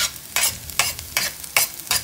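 Garlic sizzling in a hot pan with onion while a utensil stirs it in quick repeated scrapes, about six rhythmic strokes over a soft steady fry, close up and with no talking.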